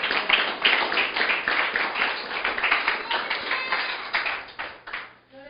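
A church congregation at a sermon claps together, with dense, lively hand claps that keep up a loose rhythm for several seconds before fading out at the end.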